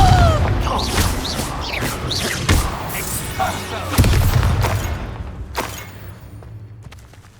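Confringo blasting-spell explosions in the Hogwarts Legacy video game: several sharp booms and crashes scattered over a busy combat soundscape, loud and close, fading toward the end.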